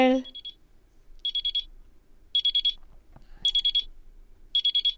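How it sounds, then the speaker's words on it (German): Alarm clock ringing inside a video game, sounding in four evenly spaced bursts of rapid, high-pitched electronic beeps after a brief low voice at the start. "Der Wecker klingelt."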